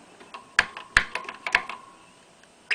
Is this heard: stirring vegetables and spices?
no